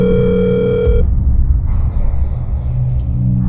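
Telephone ringtone from an outgoing call to an unknown number at night, a steady electronic tone that cuts off after about a second, leaving low rumble and faint background noise.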